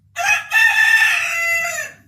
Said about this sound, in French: à 16h, un coq